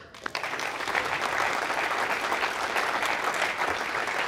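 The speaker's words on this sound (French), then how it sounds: "Et puis bien sûr, il faut aussi applaudir pour Évry." An audience applauds the Évry team after a rocket launch campaign. A few early claps quickly build into steady, full clapping that holds evenly to the end.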